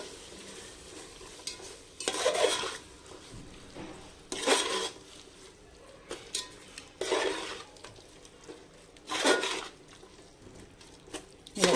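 Ginger garlic paste is sautéed and stirred in a pan for prawn biryani: intermittent bursts of spoon scraping against metal recur every couple of seconds over a low, quiet background sizzle.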